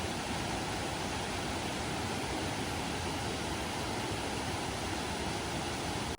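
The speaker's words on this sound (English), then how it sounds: "Immediately when you hit the trail, there's small waterfalls." Steady, dense rush of small waterfalls beside a trail fills the whole clip, a constant broadband roar without pauses, fairly close and uninterrupted.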